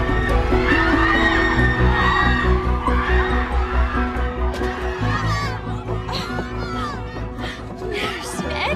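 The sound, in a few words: crowd of fans overwhelming ABBA's security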